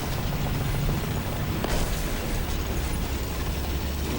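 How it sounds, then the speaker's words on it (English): Bombs exploding during a War Thunder tank battle with German ground forces, heard as a steady rumbling wash of noise with one brief, sharper burst partway through. "And the bombs are incoming, so run."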